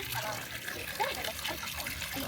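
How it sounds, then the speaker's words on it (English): Hot spring water pours steadily from a yugama hot-water pot at the Dogo Onsen foot bath in Matsuyama, a close, continuous rushing trickle that fills the whole clip with a voice faintly over it. "So this is a yugama and hot water pot where the hot water comes from."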